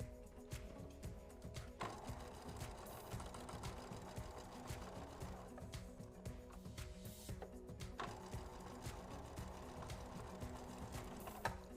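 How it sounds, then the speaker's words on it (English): A sewing machine chain-stitches quilt half-square triangles in a steady, fast mechanical whir, its rapid needle ticks and gear rattle running continuously at low volume with a few brief pauses and restarts. "I'm just gonna chain stitch for days."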